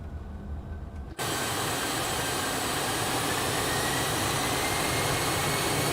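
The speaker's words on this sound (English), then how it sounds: "Listen to those beautiful jet engine sounds." Challenger 650 business jet engines in the X-Plane 12 flight simulator, a steady loud broadband roar that cuts in abruptly after a low rumble and then holds constant without talk.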